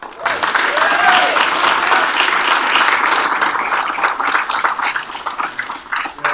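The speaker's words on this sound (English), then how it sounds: "No more clapping until it's all over." A crowd at a live-streamed public forum breaks into loud, dense clapping that holds steady for several seconds before thinning slightly toward the end.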